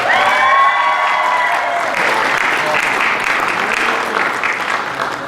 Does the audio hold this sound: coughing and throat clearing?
no